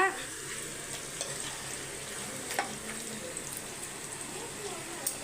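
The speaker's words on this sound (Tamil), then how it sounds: "இப்போ இதை நல்லா மிக்ஸ் பண்ணி விட்டுடலாம்" Ingredients being stirred and mixed while frying in a pan for chicken sukka, with a low steady sizzle and scattered light scraping, fairly quiet and close, with no talking.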